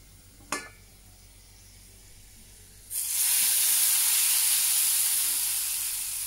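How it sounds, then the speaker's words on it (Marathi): Hot garlic tempering oil with chilli poured into pithla, a gram flour dish, bursts into a loud, steady sizzle after a brief clink, the hiss holding close and strong before easing slightly. "तोच तडका मी आता पिठल्यामध्ये टाकणार आहे।"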